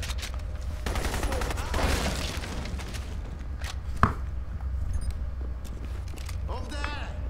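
SMG gunfire in the video game Crysis Warhead, rapid bursts crackling over constant low rumble, with one sharp loud shot midway and a voice talking briefly near the end.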